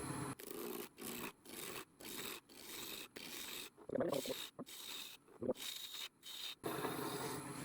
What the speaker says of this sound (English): I'm going to round this out using roughing gouge